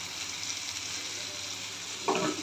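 Fish fries in a pan over a flame, giving a steady, close sizzle with a brief burst of stirring near the end.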